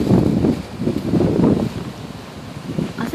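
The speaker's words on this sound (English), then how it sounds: "Yeah, these winds are very strong." Strong tropical storm gusts roar and buffet a microphone in a makeshift box fort, a loud, rumbling, continuous rush that surges, eases slightly, then builds again.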